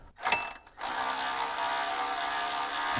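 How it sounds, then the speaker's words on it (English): A ratchet on a 9/16 socket backs out the tensioner bolt on a Bobcat 763 skid steer, brief close clicking at the start followed by a steady loud hiss. "It's just one bolt. You'll use a 9/16 socket."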